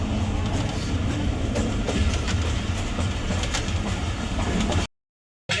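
The Awam Express, an old passenger train, runs on rails with a steady loud rumble and rattling wheel clatter, then abruptly cuts to silence near the end.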